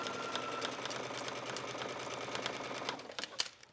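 A sewing machine stitches grosgrain ribbon onto a skirt waistband, a steady close mechanical whirr that runs without pause before stopping near the end with a few light clicks.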